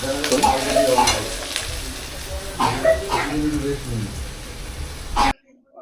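Bombay duck fish fry in a pan with onions, a steady crackling sizzle with stirring scrapes, while people talk over it throughout, cutting to silence near the end.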